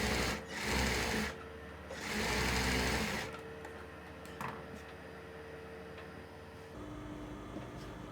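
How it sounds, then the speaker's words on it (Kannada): A sewing machine stitches the lining of a blouse, running in loud, close bursts that stop and restart, followed by a softer steady hum and a few faint clicks. "ಈ ಲೈನಿಂಗಿಗೆ ಇನ್ನೂ ಒಂದು ಸ್ಟಿಚ್ಚನ್ನು ಬಿಟ್ಕೊತಾ ಇದ್ದೀನಿ ಇಲ್ಲಿ."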